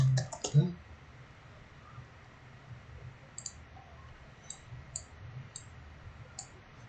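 Quick bursts of computer keyboard typing, a fast cluster of clicks at the start followed by sparse single key taps against quiet room tone.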